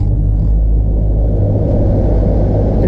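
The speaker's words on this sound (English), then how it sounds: "But let me turn the air conditioner on." A car's air conditioner runs inside the idling vehicle, picked up by a GoPro Hero 5's internal microphone. It makes a loud, steady low rumble and blowing roar that fills the cabin and does not let up.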